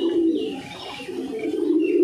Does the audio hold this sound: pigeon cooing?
yes